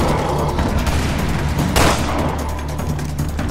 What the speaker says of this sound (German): Im Raid-Modus explodieren die Dinge.